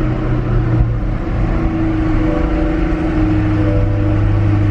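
The engine of a 2021 Chevrolet Corvette Stingray 3LT, started with push-button ignition, holds a loud, steady low rumble close by. The note changes slightly midway, with no speech.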